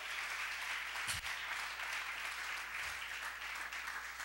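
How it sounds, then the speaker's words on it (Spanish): Clapping from a church congregation during a sermon, a soft, distant wash of steady applause with a couple of low thumps, heard faintly throughout. "Dele fuerte esas palmas al Dios de la gloria"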